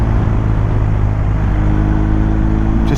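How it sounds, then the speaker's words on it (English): A BMW R 1250 GS TE motorcycle cruising in third gear on damp, twisty roads, a loud, steady engine drone with rushing wind, heard from the rider's position with no talk. "Oh God, this bike is so easy to ride. Look at that, just third gear."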